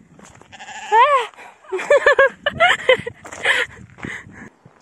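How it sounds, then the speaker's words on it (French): Little sheep bleat in a wavering, quavering chorus along a countryside path, several overlapping calls rising and falling close by, with people talking among them. "Des petits moutons."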